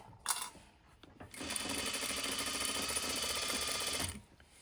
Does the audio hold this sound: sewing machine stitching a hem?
yes